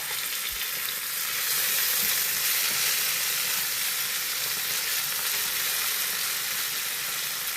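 Raw plantain pieces tipped into onions frying golden in hot oil for a Kerala mezhukkupuratti, giving a steady, loud broadband sizzle that holds throughout with no talk.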